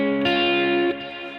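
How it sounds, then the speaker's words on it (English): Electric guitar with reverb, chorus and distortion effects sustaining a chord in a worship song, the wash ringing on, shifting once, then fading into a softer sustained tail with no voices. "let me kill this reverb"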